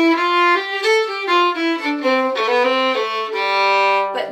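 A fiddle plays a section of a tune an octave lower, alone and clear, its bowed notes moving in a steady melodic line before settling on a held low note.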